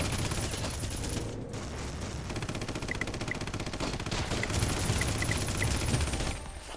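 Rapid, continuous weapon fire in the arena shooter Red Faction, a dense rattling barrage of shots and blasts that runs almost without a break at close range, with only a brief dip before it resumes.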